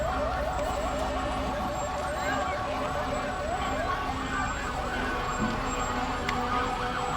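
Fire engine 56 of the Alton Fire Department rolling in a fireman's parade in Webster, its siren wailing in repeated rising-falling sweeps over a steady truck rumble and crowd noise, loud and continuous throughout.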